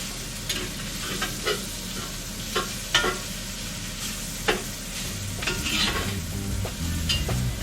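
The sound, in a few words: stir frying for Cajun pork jambalaya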